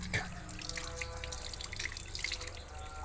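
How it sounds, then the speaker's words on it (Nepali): A tap runs into a sink, giving a continuous, fairly even splashing rush for a few seconds, with faint voices in the background. "पानी बन्द गर अनि गर न।"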